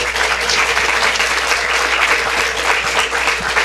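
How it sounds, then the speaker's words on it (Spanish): A conference audience at the Instituto Tecnológico de Mérida gives a loud, sustained round of applause for a visiting engineer speaker, a dense, steady wash of clapping filling the hall. "Agradecemos con un fuertísimo aplauso acá a nuestro ingeniero."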